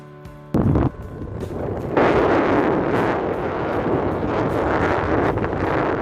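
Strong wind in open flat meadow near a bird sanctuary buffets the microphone in loud, rough gusts, with a sharp thump early on and sustained roaring noise throughout.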